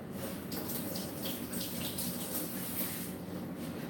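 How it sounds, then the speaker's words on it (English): Hands being washed under a running kitchen tap while potato salad is prepared; a steady, close hiss of flowing water splashes continuously with no talking. "Let me wash my hands really quick."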